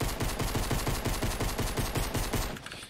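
Video game pistol fire, a rapid regular string of sharp shots for over two seconds that then stops, loud and close with no talking.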